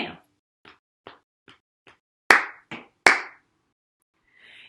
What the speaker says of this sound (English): we patted every time we said hammer, and we clapped every time we said nail